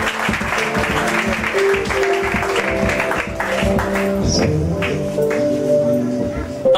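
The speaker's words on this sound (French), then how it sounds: "Applaudissons pour Jésus." A church congregation at a Pentecost service breaks into sustained rhythmic clapping, loud and close, with voices and sung tones running through it.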